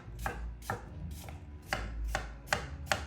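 A knife chops through peeled apples on a cutting board, seven crisp, evenly spaced strikes in a steady rhythm, close and clear with no talking.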